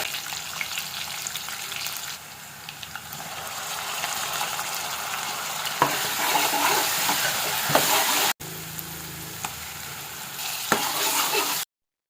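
Spices tempering in hot oil for a spicy chicken curry give a loud, steady sizzle and crackle that runs nearly twelve seconds with no voices, broken by one brief dropout near the end.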